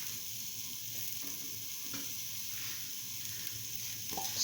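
Tomato pieces frying in a pan with okra, mint and potato rice, a steady even sizzle that runs without pause, with faint stirring ticks near the end and no voices.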